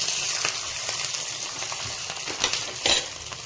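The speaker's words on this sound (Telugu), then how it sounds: "దీంట్లో మనం ఈ పచ్చిమిరపకాయలు వేసి వేసుకుందాం." Green chillies dropped into hot oil in a pan for coconut mango chutney, a steady crackling sizzle with scattered pops and a louder spattering burst near the end.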